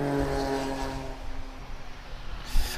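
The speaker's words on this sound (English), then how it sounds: "I think it's a Gulfstream 2." A Gulfstream II jet with Spey engines at Lisbon Airport gives a steady, loud engine roar with a tonal whine throughout, plus a brief louder gust near the end.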